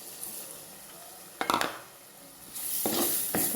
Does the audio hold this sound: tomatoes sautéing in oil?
yes